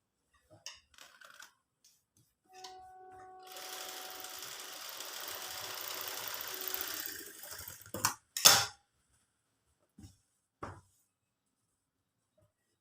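A sewing machine stitches an embroidered blouse neckline slowly, making a steady mid-level whir of about five seconds, framed by scattered clicks and handling knocks in an otherwise quiet room.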